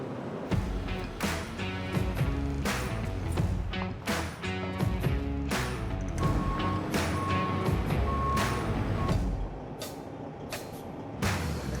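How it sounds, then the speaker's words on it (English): A truck's reversing alarm beeps repeatedly over a rumbling engine, with clanks, hisses of air brakes and heavy equipment noise close by as trucks offload equipment. "We're about to start offloading the equipment. We're probably gonna have about 10 to 15 trucks out here today."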